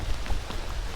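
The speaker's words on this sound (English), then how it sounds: "It is a heavy rain" Heavy rain pours down during a bike ride on a cycle road in the Ardennes, a steady dense wash of noise with faint patter, no voices.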